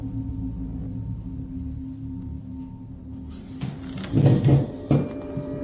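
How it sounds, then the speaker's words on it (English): After a quiet stretch of low household hum, a kitchen chair at the table is pulled out, giving a couple of brief rough scraping bursts close by. "a chair at the table somehow pulled out completely by itself."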